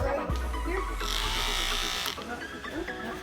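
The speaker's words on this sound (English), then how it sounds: "I had to use my Dremel here." A Dremel rotary tool fitted with a sanding wheel whirs briefly against a 3D printed fidget spinner part, a steady high-pitched buzz of a second or so that starts and stops abruptly, close by.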